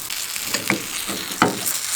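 Chickpea omelette batter frying in a pan, a close, steady sizzle with a few brief scrapes or pops over two seconds.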